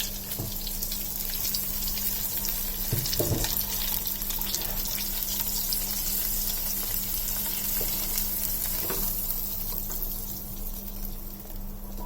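Half-cooked brinjal slid into hot oil for a South Indian ennai kathirikai curry gives a steady, close frying sizzle with watery hiss and a few soft clatters, continuous throughout with no talking.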